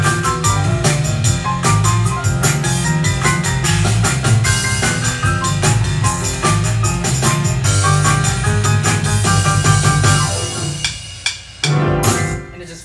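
A full Korg PA1000 arranger keyboard style plays its CV1 major chord variation, with steady drums, bass and layered parts running continuously and loudly before a short break near the end.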